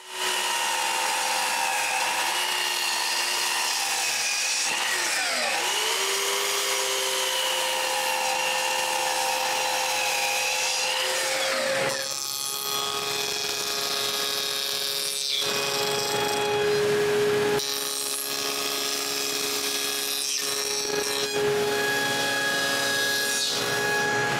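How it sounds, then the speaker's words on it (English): Power tool cutting wooden door rails and tenons for a large door frame, a steady, continuous whine and rasp of wood being sawn that shifts in pitch, runs loud and close with no talk, and pauses briefly between cuts. "I can cut all the rest of the rails and make their tenons"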